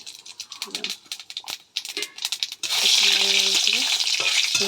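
Whole spices, dry chilli and cumin hit hot oil, starting with scattered crackling bursts before breaking into a loud, continuous sizzle up close.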